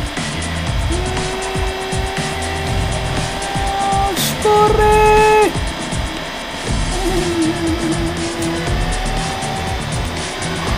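Race car engines in Race Driver DS drone loud and steady with rising and falling pitch, a brief louder burst as a car roars past, and tire squeal; a voice shouts briefly over them.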